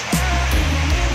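Heavy rain pours down at a roadside restaurant stop near Little Baguio on the Infanta, Quezon route, a loud steady broadband rush with faint low murmurs beneath.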